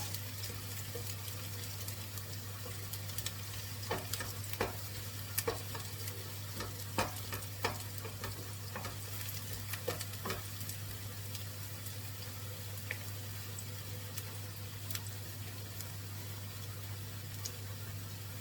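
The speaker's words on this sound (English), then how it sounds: "Just want to saute the onions and the chilies and garlic." Onions, chilies and garlic sautéing in a pan, a faint steady sizzle over a low constant hum, with scattered sharp clicks and taps of a utensil throughout and no voices.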